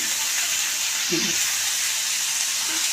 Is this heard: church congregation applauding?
no